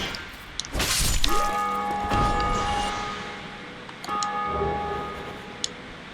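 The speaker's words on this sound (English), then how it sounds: "I don't know if you heard that bell in the distance, but that is actually another player who has made it to the first Bell of Awakening" A Bell of Awakening rings in the distance in Dark Souls, sustained metallic bell tones that sound twice, following a sharp crash, amid ambient game sounds.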